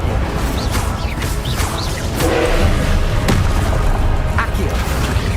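Incendio fire spell cast in the Hogwarts Legacy video game brings booming, crashing bursts and thuds over a dense rumbling game backdrop, loud and close, with a voice talking underneath.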